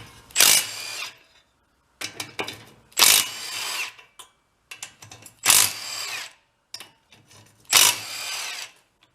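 Power tool driving bolts out of the outer sheet metal on a knocking engine in a workshop, five loud bursts of whirring with short gaps, separated by quieter rattles and handling clatter, no talking.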